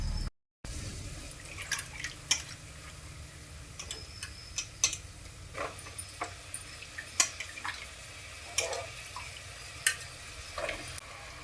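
Chopped raw papaya being stirred into sautéed onions in a pan for a Kerala papaya theeyal curry, heard as scattered light ticks, taps and soft scraping clicks against a steady low background, with no talking.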